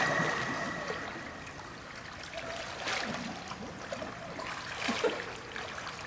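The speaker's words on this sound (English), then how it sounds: "And underwater, blow bubbles" Soft, faint gurgling and bubbling of a child blowing bubbles underwater in a swimming pool, a low watery wash with a few louder bursts of bubbles.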